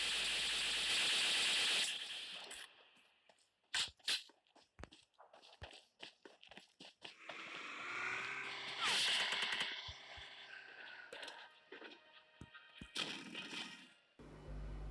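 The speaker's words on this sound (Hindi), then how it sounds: "तो पहले बंदे की फायरिंग करते हैं।" Gunfire in a battle royale video game, with bursts of sharp cracking shots and rapid automatic fire scattered irregularly, some close and loud, others quieter, with rattling and footstep-like clatter between volleys.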